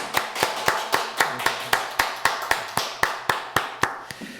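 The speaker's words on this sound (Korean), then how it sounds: "우리 한번 목사님께 감사의 박수 드리도록 할까요?" Church congregation applauding a visiting pastor: a few hands clapping in a slow, regular rhythm, about four claps per second, each sharp and distinct, fairly close and alone without talk.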